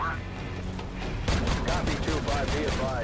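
Heavy battlefield gunfire from Call of Duty 4: Modern Warfare, with rapid bursts of automatic shots and booms that erupt suddenly partway through, loud and close after a rumbling lead-in.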